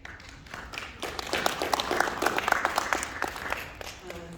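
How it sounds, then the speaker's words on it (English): A room of people at a city council gathering claps steadily for a few seconds, the applause swelling quickly and then thinning out, close and moderately loud. "you got applause"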